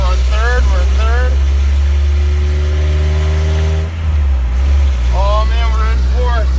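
A Nissan Hardbody D21 truck with a new transmission drives steadily in third gear on icy ground, its engine a loud close drone, with someone talking briefly at the start and again near the end.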